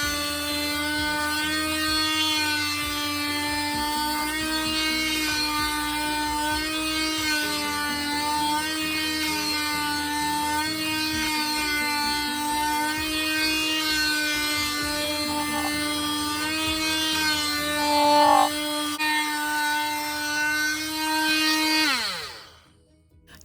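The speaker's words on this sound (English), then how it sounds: "After I had sanded both sides of both of the wood slices" A power sander works steadily on wooden slices for craft use, giving a loud, continuous whine with a constant pitch that holds for about twenty seconds before winding down at the end. No one speaks.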